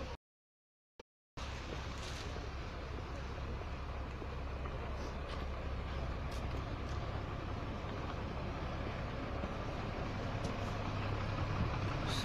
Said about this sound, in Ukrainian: Бачите, куча машин.